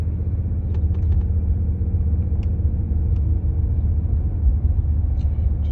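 Inside a Ford F-150 EcoBoost with an aftermarket exhaust in normal city driving, a steady low engine and exhaust rumble continues throughout, with a few faint clicks and rattles.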